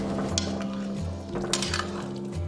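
Mutton and radish soup stirred in a pot after goji berries and coriander go in, giving soft clinks and scrapes of a utensil against the pot over a steady low hum, close and moderately loud.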